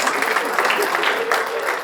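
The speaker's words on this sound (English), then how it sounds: "Give her a round of applause as she helped me." An audience at a Melava Malka gathering claps for a volunteer, a dense, steady patter of many hands that carries at even loudness through the whole stretch with no voices standing out.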